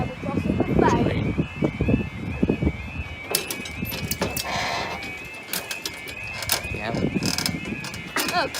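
A street level crossing mechanism creaks and squeals in drawn-out metallic tones while people talk nearby, with pigeons cooing and general outdoor clatter mixed in.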